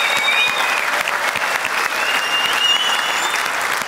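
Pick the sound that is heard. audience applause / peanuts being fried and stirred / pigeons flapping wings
audience applause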